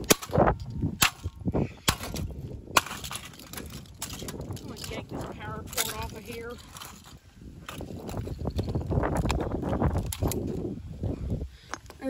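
A hammer whacks an old computer being scrapped for parts outdoors on a windy evening: several sharp metallic clangs, loud and close, scattered over steady wind rumble with a voice talking in between.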